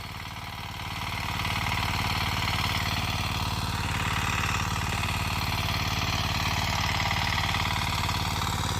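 A 9hp Kama diesel power weeder tills hard, dry field soil, its engine chugging steadily and loudly close by after a brief quieter opening, a continuous low throbbing drone with no talk.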